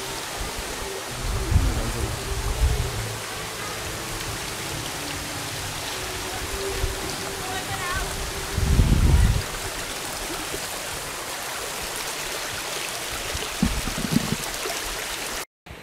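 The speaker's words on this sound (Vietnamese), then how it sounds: "Suối nguồn tự nhiên, nước trong vắt và lành toát." A natural mountain stream near the Pa Sỹ waterfall in Vietnam's Central Highlands gives a steady, close rush of flowing water, broken by a few low thumps and brief handling knocks.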